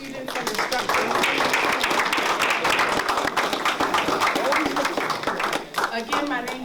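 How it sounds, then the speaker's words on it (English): An audience applauds students and instructors at a Teaching Artists Institute event, a loud dense burst of clapping from many hands that stays steady throughout and thins slightly near the end. "Please clap again for all of our students and instructors."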